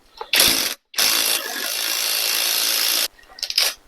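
A socket ratchet working loose stubborn, stuck head bolts on an abused Chevrolet 327 engine, heard as a near, loud grinding-clicking rasp in two bursts, one short and one sustained for about two seconds, then fainter clicks.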